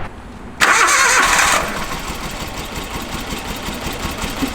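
A Suzuki Alto Works 660cc three-cylinder turbo engine starts up cold, close by: a short burst of cranking catches and then settles into a steady, slightly uneven idle.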